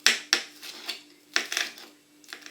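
A kitchen knife chops herbed stuffing for rolled, stuffed chicken on a cutting board, making a handful of sharp, close knocks in an uneven rhythm with short pauses between them.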